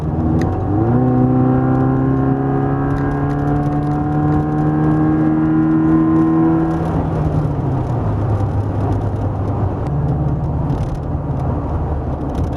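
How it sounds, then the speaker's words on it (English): A 1957 Porsche 356A cabriolet replica cruises along a country road, its exhaust droning steadily with a rising gear-held tone that drops as it shifts around seven seconds, then settles into a lower continuous rumble. "All you hear is the exhaust."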